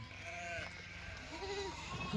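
Sheep bleat a few times at moderate distance, drawn-out wavering calls rising over a steady outdoor background hiss.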